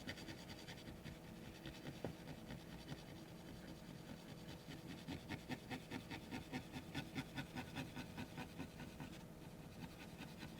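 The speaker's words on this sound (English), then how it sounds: "I'll go ahead and start buffing." Buffing cloth rubbing over a Super Nintendo game cartridge, The 7th Saga from 1993, gives a steady close scrubbing that grows into a quick rhythmic back-and-forth in the second half, alone without speech.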